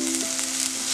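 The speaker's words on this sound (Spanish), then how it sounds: "El ajo lo vamos a dejar solamente un momentito que se dore" Garlic sizzling in hot oil in a pan, a steady close crackle and hiss that fills the short moment alone, with no voices.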